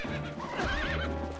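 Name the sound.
horse neighing and clip-clop in video game Twilight Princess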